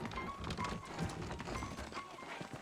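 Horses in a Red Dead Redemption western scene clip-clop at a steady walking rhythm, with a brief whinny amid ambient game sound and music.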